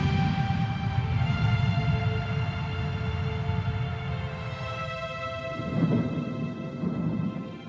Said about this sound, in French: le bruit de l'orage est nouveau pour eux